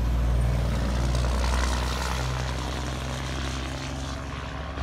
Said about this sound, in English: we are next to a very busy road next to the ports in Savannah, Georgia